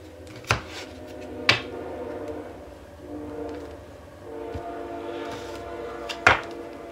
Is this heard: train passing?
yes